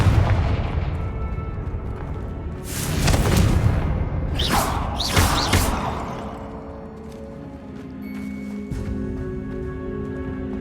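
Magical Confringo blasts from a Hogwarts Legacy spell, heard as several loud whooshing bursts, each ending in a booming crack, arriving in quick succession over steady game background sound.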